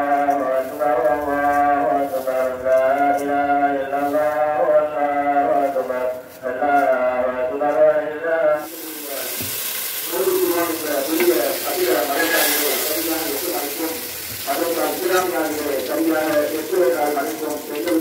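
Ingredients fry in hot oil for sheer khurma, a sweet Eid vermicelli dish, giving a soft, continuous sizzle under a voice and tuneful background sound, the sizzle growing more noticeable in the second half.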